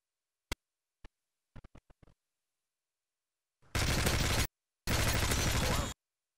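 Video game gunfire: a few isolated sharp clicks and a quick rattle of shots, then two loud sustained bursts of rapid automatic fire separated by a short silence.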